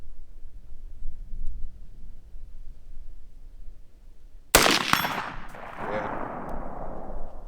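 A single loud, close shot rings out from a Colt A2 Government carbine clone rifle on an outdoor range. Quiet background comes before it and a decaying echo follows.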